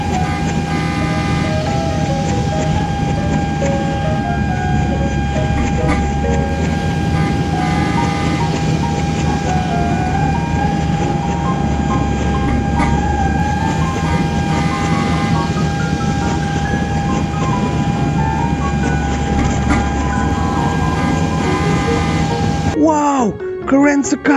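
A toy CC206 locomotive runs continuously with a steady mechanical whir and rattling rhythm, close and loud, under an excited voice, before it stops abruptly near the end.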